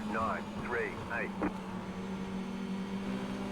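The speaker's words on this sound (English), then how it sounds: "Sounds like James is shifting down low." An iRacing race car engine at North Wilkesboro revs in quick rising and falling bursts as it downshifts, then settles into a steady drone.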